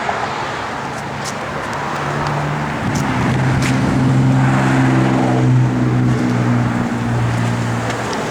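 A 1993 Ford Mustang LX engine runs with a deep, steady rumble that swells slightly in the middle, a few sharp clicks and knocks over the low drone.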